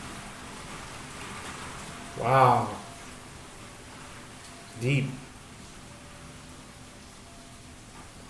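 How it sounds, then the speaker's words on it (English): Light rain falls in a steady soft hiss through a thunderstorm, faint and constant in the background while someone speaks two short words over it. "It's raining."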